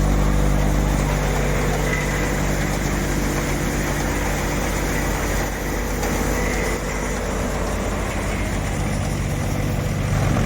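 A Mahindra 475 tractor engine runs steadily while powering a Vishwakarma combo threshing machine cleaning mung beans, a loud unbroken low drone with a constant mechanical hum throughout.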